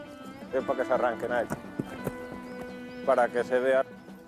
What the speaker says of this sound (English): he gives displays of traditional Spanish horsemanship